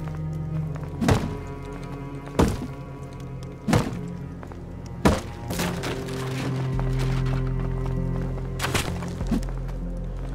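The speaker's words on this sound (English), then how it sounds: "I can destroy the staircase. I destroyed the staircase, he can't get out now." A wooden staircase being smashed apart in the survival video game Rust: four heavy, evenly spaced thunks about a second apart, each a sharp woody impact, followed by a low droning hum.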